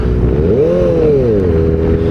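A Kawasaki ZX-4RR motorcycle engine drones steadily while riding, its pitch rising and falling slightly, with constant wind rumble against the microphone.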